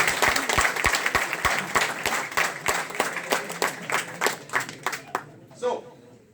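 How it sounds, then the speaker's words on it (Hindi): Audience applause at a crowded meeting on Murthal Road, with sharp individual hand claps scattered over a crowd that fades out toward the end, while voices talk over it throughout. "तालियां बजाओ।"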